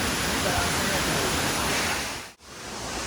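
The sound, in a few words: waterfall over 70 metres high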